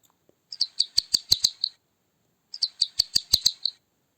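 Two quick bursts of high, rapid chirps attributed to a bat, each a rhythmic series of about eight sharp squeaky clicks, clear and close with no talking.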